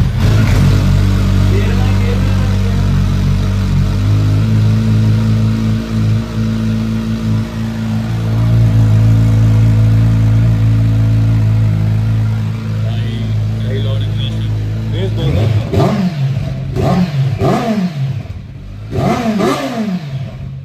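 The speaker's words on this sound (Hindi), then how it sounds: "तो ये अखरा का एग्जॉस्ट है ओरिजिनल है कॉपी है ये बस आपको टेस्ट करा रहा हूँ" A superbike fitted with an Akrapovic exhaust idles loudly and steadily up close. It then breaks into a series of sharp, rising throttle revs that bark and fall away in quick succession.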